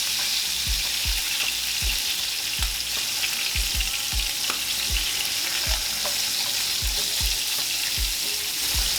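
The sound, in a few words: hamburger patties browning and sizzling in a frying pan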